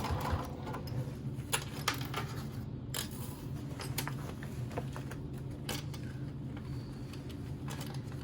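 A sewing machine stitches through a couple of layers of pouch lining, a quiet, steady mechanical whir with faint irregular clicks and taps throughout.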